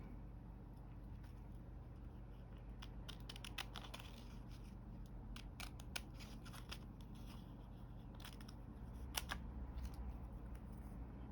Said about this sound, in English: I'm going to get my scissors and cut all the elements out